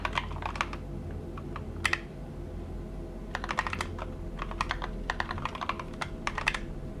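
Bursts of clicking keystrokes on a computer keyboard during a live stream setup, typed in quick uneven runs with pauses, close and fairly loud over a low steady background hum.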